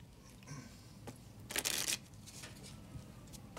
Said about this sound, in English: I want you to shuffle them up any way you'd like.